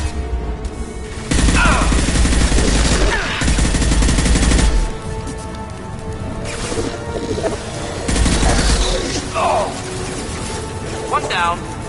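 Gunfire in Mass Effect 2 comes in loud sustained bursts separated by short gaps, mixed with mechanical clatter and game effects, while voices talk over the action.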